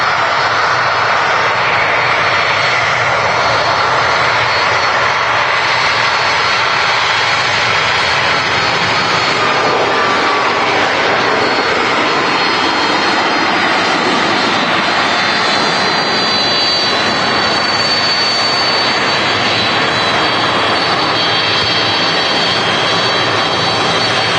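TUI Boeing 767 jet airliner at Manchester Airport, its engines a loud, sustained roar with a faint rising whine, filling the whole stretch evenly and close by, without any talking.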